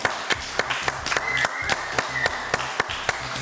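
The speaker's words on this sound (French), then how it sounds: "Je vous demande de les applaudir très très fort." A studio audience on a French news-and-variety show claps loudly for the hostesses Manon, Cathy and Miss JJDA, with sharp, evenly spaced rhythmic claps standing out over a continuous bed of applause.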